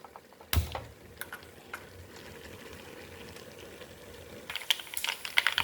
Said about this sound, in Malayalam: കടുക് പൊട്ടിച്ച് ഉഴുന്നരിപ്പും കൂടെ ഇടുന്നുണ്ട്